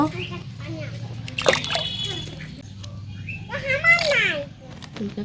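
Pangas fish pieces are washed by hand in a bowl of water, with a couple of splashy sloshes and trickles close by under a person talking.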